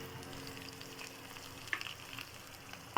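Coconut, dried red chillies, coriander seeds, curry leaves, ginger and garlic roasting in a pan for pirandai thuvaiyal, a soft steady sizzle with a few brief sharper crackles and pops, no talking.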